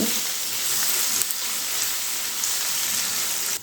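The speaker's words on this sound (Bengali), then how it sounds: "এবারে এই ফোড়নের সঙ্গে আলু আর গাজরটা একটু ভালো করে ভেজে নিতে হবে" Diced potato and carrot fry in hot oil with whole-spice tempering for a vegetarian chira pulao, a steady, dense sizzle that stays loud and even throughout with no talking.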